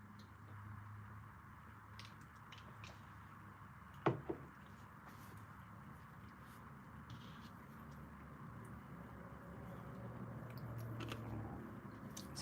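Ice from a drink crunched between the teeth, a brief pair of crisp bites close to the mic against low room noise.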